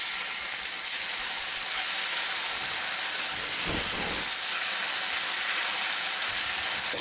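Marinated chicken pieces frying in hot oil, a loud continuous hiss of sizzling throughout with a brief low thump midway, close and steady with no voices.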